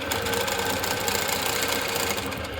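A longarm quilting machine stitches a continuous curve, giving a close, steady, rapid mechanical chatter with constant motor hum that runs throughout without pause or talk.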